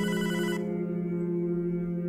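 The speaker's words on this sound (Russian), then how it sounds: "Телефон. Тебе стоит ответить." A telephone rings in Hotline Miami 2: Wrong Number, a steady electronic ringing tone with a rapid trill in its first half, then a sustained tone carrying on alone and loud through the rest.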